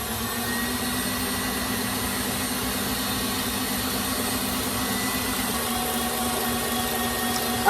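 Electric mixer whipping snickerdoodle frosting toward stiff peaks, a steady, fairly loud motor whir that drones on evenly without a break and with no voices.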